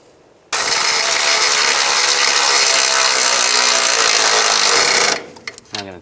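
A power tool runs in one loud, continuous burst of about four and a half seconds while suspension nuts and bolts are tightened on a 2005-15 Nissan Xterra during a CV axle shaft job, then cuts off, followed by a few faint clicks.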